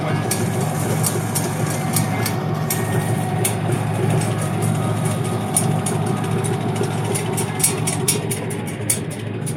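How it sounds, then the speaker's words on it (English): A gas or steam tractor engine runs steadily at an antique tractor show, a continuous low mechanical drone with periodic sharp clanks or exhaust pops above it, loud and close throughout. "This is my tractor."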